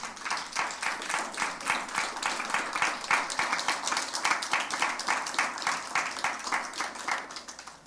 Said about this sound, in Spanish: Alguien dele un aplauso fuerte al Señor.